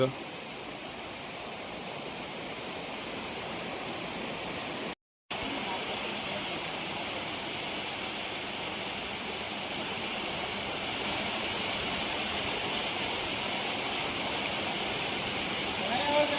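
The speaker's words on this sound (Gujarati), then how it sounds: "કેટલું મસ્ત સુંદર ઝરણું વહી રહ્યું છે સુંદા માતા પર્વત પરથી" A mountain stream pours down the slopes of Sundha Mata hill, giving a steady, unbroken rush of water close by that holds an even level throughout, with only a brief cut of silence partway through.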